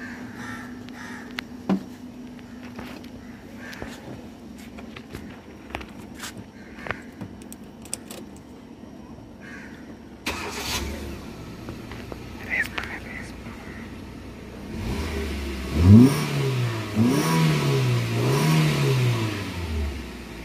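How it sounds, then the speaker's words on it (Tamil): A Hyundai i20 Magna 1.2 Kappa petrol engine turns over and settles into a revving idle after a stretch of clattering background noise and faint voices. "இப்போ பார்த்தீங்கன்னா இன்ஜின் நான் ஸ்டார்ட் பண்ணுறேன்."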